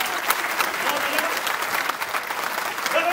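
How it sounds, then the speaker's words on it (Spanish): An audience claps steadily through a comedy show by a comedian, dense and sustained from start to end, with some voices mixed into the crowd noise. "Un aplauso para la señora, vente para acá"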